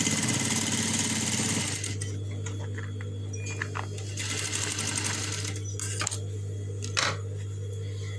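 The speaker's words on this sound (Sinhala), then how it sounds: "නැවත මේ පැත්තට හරවලා නැවතත් මේ පැත්තට හරවලා මහනවා" A sewing machine stitches a lunch bag, a loud rapid mechanical whir at first, then shorter bursts of stitching separated by pauses with faint handling noise.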